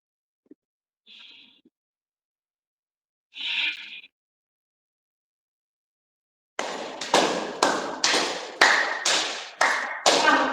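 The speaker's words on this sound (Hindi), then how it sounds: "खड़े होने में सबसे पहले हम 108 बार ताली बजा लेंगे" Hands clap over and over in a steady, fast rhythm during a yoga session, loud and close, after a few scattered faint taps and rustles at the start.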